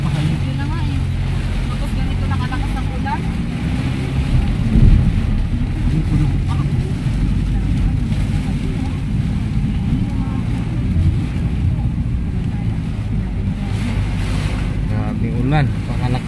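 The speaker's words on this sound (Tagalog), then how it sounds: "Ulan, pakalakas. Sama pang hangin." Heavy rain and strong wind buffeting a vehicle on the road with zero visibility, a dense continuous roar of rain and gusts close by, with people talking over it.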